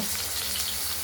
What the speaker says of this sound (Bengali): আলুগুলো লাল করে ভাজা করে নিই